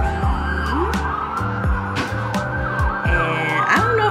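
Emergency vehicle sirens wail outside near Asheville, rising and falling tones held steadily throughout over low traffic rumble, fairly loud and continuous with no talking.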